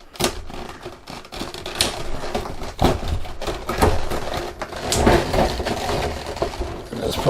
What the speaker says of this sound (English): Cut off the tape.